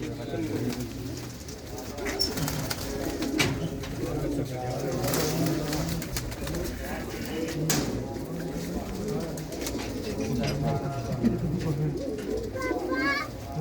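Pigeons coo continuously in low, burbling phrases while someone talks over them, with occasional clicks and rustling nearby.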